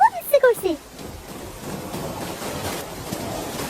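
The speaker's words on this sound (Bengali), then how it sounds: "এখন তো বৃষ্টি হচ্ছে খুব" Heavy rain falling steadily, a broad hissing patter that fills the background after a brief burst of a voice at the very start, then continues evenly on its own.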